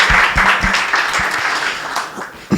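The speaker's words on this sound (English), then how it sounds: "just giving a huge applause for these guys" Applause from a conference audience at a cypher event in Barcelona, a short burst of loud, close clapping that fades over two seconds before a voice cuts in.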